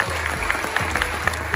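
Brief burst of clapping from an audience at a Salta radio announcers' event, with individual claps standing out sharply over a low hum and murmur.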